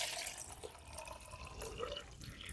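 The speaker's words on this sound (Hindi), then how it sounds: "लोटे में हम गुनगुना पानी डालते हैं।" Lukewarm water pours into a lota pot for a jal neti nasal rinse, a steady running, splashing stream filling the vessel close by and continuing throughout without talk.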